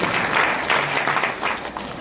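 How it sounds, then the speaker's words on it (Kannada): Loud audience applause at a comedy performance during a swami's birthday celebration, a dense steady burst of clapping filling the whole moment with no talk over it. "ಜೋರಾದ ಚಪ್ಪಾಳೆ ತರಬೇಕು"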